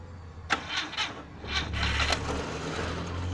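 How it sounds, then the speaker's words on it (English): An old car's starter cranks over without the engine catching, a fault on a vintage car with a manual choke. Short uneven bursts of grinding and whirring follow one another, close and moderately loud, with no voice over them. "Seems like we also have a starter problem."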